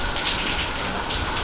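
Heavy rain pours in a dense, continuous hiss of close, loud drops, with no pause across the short stretch.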